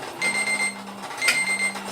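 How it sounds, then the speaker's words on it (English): Kitchen timer going off for sterilized jars during home jam canning: a bright, close electronic beeping in two repeated bursts over a low hum. "And there's the timer now for the sterilized jars."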